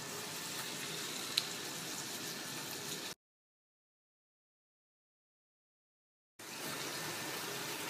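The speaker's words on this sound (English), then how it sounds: "So the first courgettes and one flower are going in the hot oil." Courgettes and courgette flowers deep frying in hot oil give off a steady, bubbling hiss that cuts out to silence midway and then returns at the same level.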